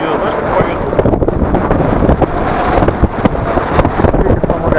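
Gusty wind buffets the microphone at a model airplane field where a heavy Focke-Wulf model practices takeoffs and landings, a steady loud rumbling roar with sharp bursts throughout, with people talking over it.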